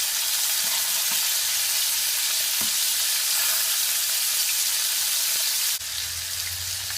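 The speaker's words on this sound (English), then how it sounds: "So all my pork chop has finished fried" Pork chops fry in a pan for a Jamaican stewed pork dish, giving a steady, bright sizzle with a few soft pops and clicks. Near the end the sizzle drops slightly and a low rumble comes in.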